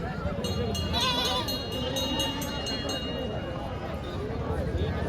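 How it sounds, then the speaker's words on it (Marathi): Goats bleating at the busy goat market in Neknoor, repeated short cries rising over a constant murmur of crowd chatter and talk. "तर बघा हे शेळ्यांचा बाजार."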